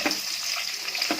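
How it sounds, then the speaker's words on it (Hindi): Chopped onions frying in a pan for coriander rice, a steady close sizzle with broadband crackle running throughout and two brief louder bursts. "अब इसमें प्याज डालेंगे और प्याज को भी 1 मिनट तक भूनेंगे"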